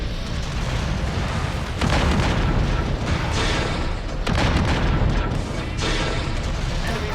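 Dense, continuous barrage of rapid gunfire and booming explosions hitting a mech in MechWarrior 5: Mercenaries, loud and chaotic, with heavy blasts swelling in waves throughout.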